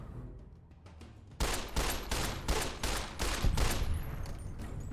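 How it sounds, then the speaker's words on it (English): Gunfire from a 20 gauge shotgun and a 10mm pistol in the Fallout video game, with a rapid series of loud sharp shots in close succession starting about a second in, over a quieter background. "That 20 gauge shotgun at close range does approximately nothing."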